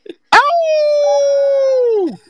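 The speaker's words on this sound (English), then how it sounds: "Let me hear them howls. Let's get some Get wolf them pack in howls." A single long howl, loud and close, rises sharply, holds a steady tone for under two seconds, then drops away; a short yelp comes just before it, and nothing else is heard.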